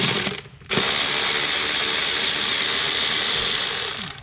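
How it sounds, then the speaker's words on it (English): Ratchet clicking steadily as it backs out a 10mm bolt on the intake manifold connector of a Kia Optima, close and continuous for several seconds after a brief pause. "Removing this last 10mm bolt from underneath of this connector on the intake manifold"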